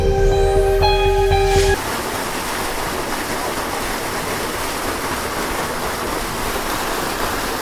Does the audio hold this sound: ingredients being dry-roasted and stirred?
no